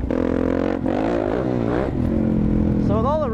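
A Suzuki DRZ supermoto motorcycle exhaust rumbles loudly close by with a rising and falling rev, the engine note swelling mid-clip, while a voice talks over it.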